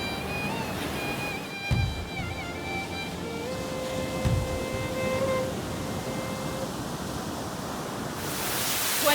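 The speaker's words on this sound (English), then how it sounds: "now it's pouring and it's crazy. You can't even see the beach." Heavy rain pours steadily onto a beach in Sri Lanka, a dense continuous hiss with a constant loud wash that swells near the end, without any voices.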